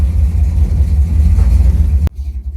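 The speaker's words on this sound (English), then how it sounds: "it's right at 650, and it doesn't sound like it wants to die" Car engine idling steadily at about 650 rpm after installation of a new Quadrajet carburetor, a loud, continuous low rumble that cuts off abruptly near the end, leaving quieter background noise.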